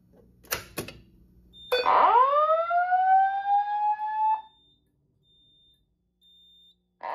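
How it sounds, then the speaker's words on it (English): A Simplex 4003 fire alarm system sounds during a test: brief clicks, then a loud rising tone that holds steady for about three seconds before cutting off, leaving a faint high beep. "Once again, we will be testing the fire alarm system."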